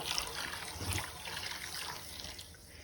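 Salt poured into two gallons of hot water to mix a deer-hide tanning bath gives a soft, steady trickling and rushing sound for a few seconds, with a faint clatter near the start.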